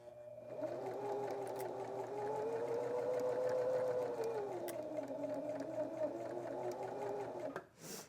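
Sewing machine stitching steadily across a scrap-fabric log cabin quilt block, a continuous close whirring hum with a slight pitch drift that runs for several seconds and stops near the end.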